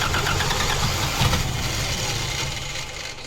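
A turbocharged carbureted petrol engine cranks and catches, running with a rough, loud, steady roar that stays close throughout without speech.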